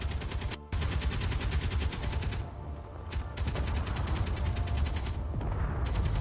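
Continuous rapid turret gunfire in the space building game Space Engineers, a dense unbroken rattle of shots with only brief gaps, steady and moderately loud, without talk.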